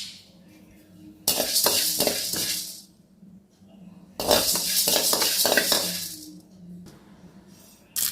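Wheat, urad dal and green gram dry roasting in a pan, heard as two long bursts of loud rattling and scraping as the grains are stirred and tossed against the metal, with quieter pauses between and no talking.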